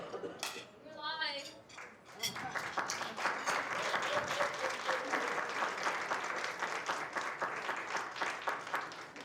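Applause from diners at a village cooking show event swells after a few brief calls and claps, then holds as a steady mass of many hands clapping, moderately close, with scattered voices underneath.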